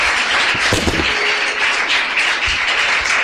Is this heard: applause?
yes